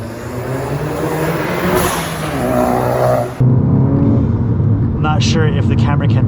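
A tuned, turbocharged Volkswagen GTI of about 400 hp with an open air intake roars and builds under acceleration, heard from inside the cabin, with a rushing turbo whoosh and a shift partway through.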